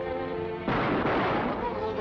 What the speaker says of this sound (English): Fire into that bolt.